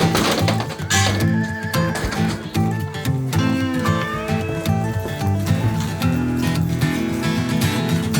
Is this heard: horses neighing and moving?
yes